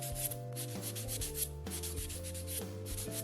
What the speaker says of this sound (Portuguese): E agora sim, eu vou passar a nossa lixa bloquinho.